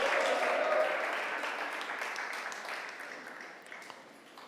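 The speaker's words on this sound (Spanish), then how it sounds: "tu pueblo te da una ofrenda de aplauso" Church congregation applauding together during a worship service, a broad sustained wash of clapping that slowly fades over several seconds, with no voices over it.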